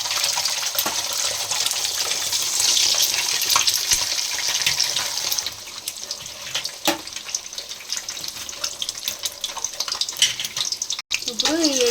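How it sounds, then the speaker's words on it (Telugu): Six eggs fry in hot oil in a pan for egg rice, giving a loud, continuous close sizzle that eases after a few seconds into a softer crackling hiss with scattered pops. "ఇప్పుడు ఈ ఎగ్స్ వేసుకున్నాం కదా, మనం నూనెలో ఫ్రై చేసుకోవాలి బాగా."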